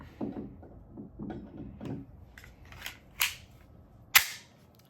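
A Glock 44 pistol chambered in .22LR fires two sharp, close single shots about a second apart. Before them come several dull clunks of gun handling as the pistol keeps malfunctioning.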